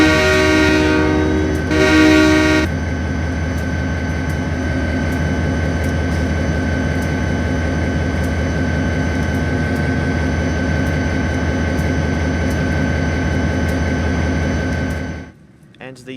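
An SD40T-2 tunnel motor locomotive in Train Simulator 2014 sounds a loud horn for about two seconds, then its diesel engine drones on steadily at close range before cutting off abruptly; a voice is faintly present.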